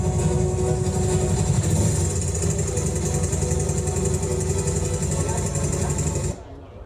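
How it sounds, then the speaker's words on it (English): A Honda motorcycle engine running rough somewhere in West Africa, a loud steady mechanical drone with irregular rattling underneath that cuts off abruptly near the end. "the motorcycle started making a really strange sound"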